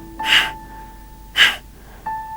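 Two forceful, sharp nasal exhalations of Bhastrika pranayama breathing, spaced about a second apart, close and loud over a quiet background with faint tones.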